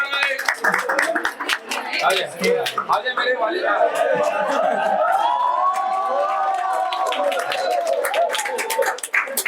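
An audience claps at a birthday celebration, a steady dense patter of many hands running throughout, with people talking and calling out over it.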